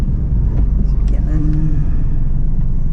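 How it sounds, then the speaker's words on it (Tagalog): Heavy road traffic on the Cagayan de Oro national highway in Mindanao, a loud, close, continuous low engine rumble from cars and other vehicles, with someone talking over it. "Traffic guys, traffic."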